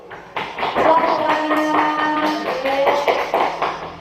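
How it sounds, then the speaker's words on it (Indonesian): Classroom applause for a student group after their presentation, a dense, sustained patter of many hands clapping for about four seconds, with voices and cheers mixed in. "Kita berikan aplaus untuk kelompok satu."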